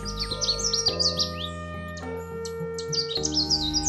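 Birds in Jamaica chirp and tweet in quick, bright bursts, with several calls overlapping continuously against a steady tonal background hum.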